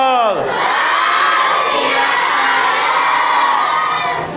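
At a Sikh education society gathering, a large crowd roars back the jaikara war cry "Sat Sri Akal" in one loud, sustained shout that holds for about four seconds after a brief lead-in.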